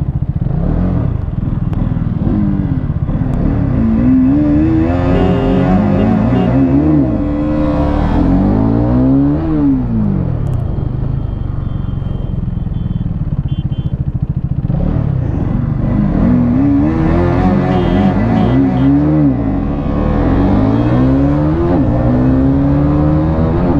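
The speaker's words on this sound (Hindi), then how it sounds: "जल्दी ही देखो पांचवा गियर है और करिश्मा खड़ी टक्कर दे रही है आरसी" Two motorcycles, a Karizma XMR 210 fitted with a 39-tooth sprocket and an RC200, in a drag race, engines revving loud and close through rising gear changes, with strained whines sweeping up and dropping repeatedly across the run.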